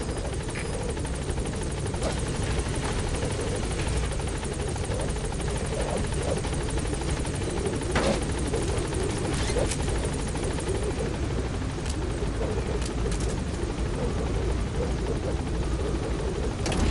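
A helicopter in Metal Gear Solid V lifts off from a landing zone, its rotor a steady loud whirring drone with a dense engine hum that holds throughout.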